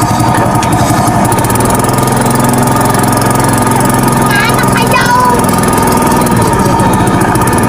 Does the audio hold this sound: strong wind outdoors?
no